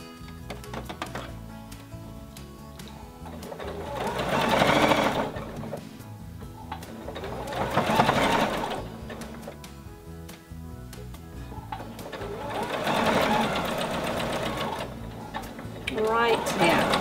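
A sewing machine stitches around the sleeve head of a baby onesie, running in several whirring bursts of a few seconds each, separated by pauses, with music playing underneath.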